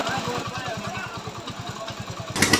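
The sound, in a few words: rebuilt Hero Passion Pro motorcycle engine running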